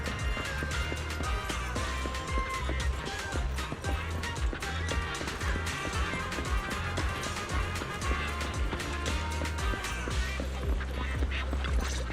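Ducks quack repeatedly in the video game Zenless Zone Zero, busy overlapping calls over a steady low background drone of game audio, continuous and fairly loud throughout.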